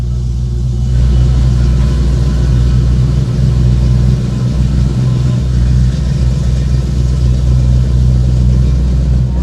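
A classic car, either a 1951 Ford Custom or a 1956 Chevy Bel Air, idles from a cold start with a loud, close, steady low rumble and slight uneven pulsing, no voices over it.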